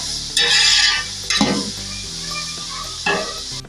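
Chicken pieces sizzle and fry loudly in a pan of oil and browned onions for biryani, with bursts of hissing as the meat is stirred and turned, and occasional scraping of a utensil against the pan.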